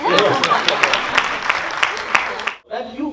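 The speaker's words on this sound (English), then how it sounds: "You can clap." Panel attendees at a Mumbai Film Festival session clap in a thin, spaced scatter while voices talk over it. The clapping stops abruptly after about two and a half seconds, and speech continues.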